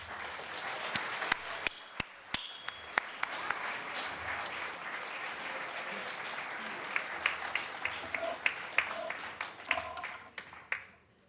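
An award ceremony audience applauds its scholars with sustained, dense clapping from a crowd, sharp individual claps standing out near the front, fading out at the end.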